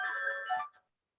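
A new phone ringing with an incoming call, a single short electronic ringtone phrase of steady tones that stops abruptly, leaving silence.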